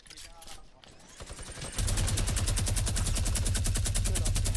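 Rapid automatic gunfire from a Fortnite match rattles in a steady, dense burst for the last few seconds, loud and close, after quieter scattered shots, with French-speaking players talking over it.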